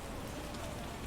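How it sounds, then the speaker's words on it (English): Steady rain falls in The Witcher game, a soft, even hiss of drops on surfaces with no distinct pattern, quiet and unbroken. "Oh, it's raining, and they want to get out of the rain."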